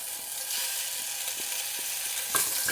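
Bacon strips sizzling in a hot pan for a chicken casserole, a steady close crackling hiss with small pops and a brief louder spatter near the end.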